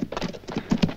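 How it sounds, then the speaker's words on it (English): Horses' hooves clip-clop in a steady rhythm as two riders approach in a Western ranch setting, growing louder and nearer toward the end, with no talk over them. "Hey, Butch, here come two riders"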